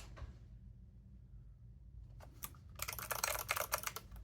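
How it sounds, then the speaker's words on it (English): Mechanical Kailh switches on an 8BitDo arcade controller click in rapid, close bursts, starting with a few sparse presses and building into a dense flurry of sharp clicks near the end. "Very clicky mechanical switches."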